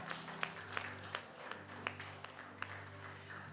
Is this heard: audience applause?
yes